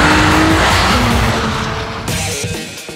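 A Nissan 350Z in the Gran Turismo 4 video game drifts with a loud, sustained engine roar and continuous tire squeal, then the pitch drops and fades slightly near the end.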